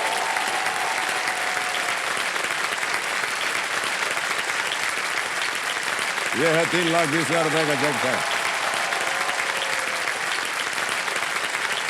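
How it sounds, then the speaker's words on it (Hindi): Steady studio-audience applause fills the hall on the quiz show Kaun Banega Crorepati after a contestant wins, with a voice speaking briefly over the clapping partway through. "तालियां बज जाए इनके लिए।"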